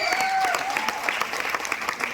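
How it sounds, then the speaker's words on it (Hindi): Crowd applause rings out at a carnival program event, brisk steady clapping for a couple of seconds with a faint tonal hum underneath. "मिस्टर प्रवीण सर के लिए जोरदार ताली होना चाहिए"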